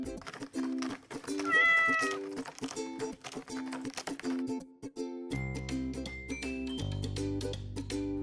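A cartoon cat gives a few short meows over a bright, tonal musical background, close and clear.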